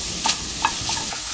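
Sliced onions stir-fry over high heat for tteokgalbi, a steady hiss of frying broken by a few scraping stirs of a spatula in the pan, close up, with no talk.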